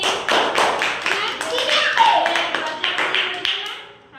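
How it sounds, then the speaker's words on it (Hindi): Children clap together during a classroom activity, a dense run of sharp hand claps spread across the whole stretch, fairly close, with voices mixed in underneath. "बस हे गेला ताली"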